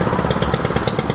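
A strimmer fitted with a twisted-wire trimmer head runs close by, a loud, steady, buzzing engine drone with a fast, even pulsing and no pauses or voices.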